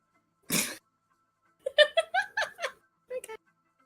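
A single sharp sneeze bursts out during Dwarf Fortress play, then after a pause comes a short run of giggly, breathy laughter-like sounds in a quiet room.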